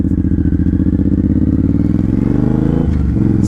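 A 2007 Suzuki M109R cruiser with an aftermarket exhaust rumbles steadily at close range, its loud, throbbing low pulses holding even before a brief dip and shift in tone near the end.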